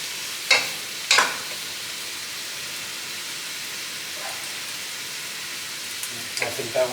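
Food frying in a pan on a home stove while a new recipe is cooked, with steady soft sizzle and a few brief louder scrapes of stirring, fairly quiet and without talk.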